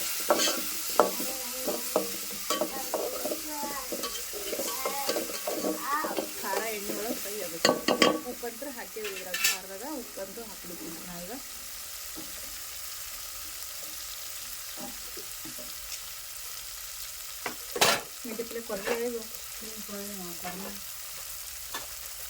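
Fenugreek leaf stir-fry with green chilli paste and salt sizzles steadily in hot oil in a pan while a spoon stirs and scrapes it in bursts, close up, with a few faint words from a woman.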